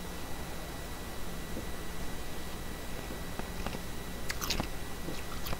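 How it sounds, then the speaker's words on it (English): Someone chews on ice, giving a few crisp, faint crunches over a steady background hiss. "Yes, I'm chewing on ice."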